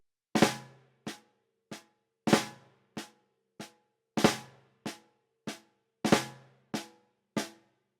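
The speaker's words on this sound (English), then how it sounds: "This is how you play the Left Flam Triplet." Left flam triplet rudiment on a drum: crisp flammed strokes in triplet groupings, each hit sharp with a short ringing decay, played alone in a steady pattern of about a dozen notes.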